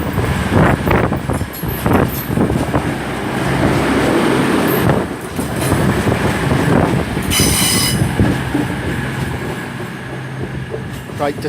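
A train pulls out of Swindon station, wheels rumbling and clattering over the rails with a loud steady roar and a burst of high squealing, close by.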